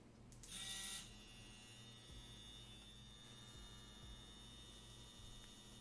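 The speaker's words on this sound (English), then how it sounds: "we will be using the JOSI tattoo machine as well to demonstrate" A JOSI tattoo machine fitted with tattoo needles runs with a steady, quiet electric buzz and low hum, a brief louder whir at the start, then continuing evenly and close by with no talking.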